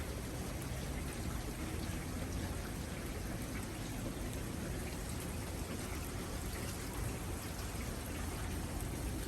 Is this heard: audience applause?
no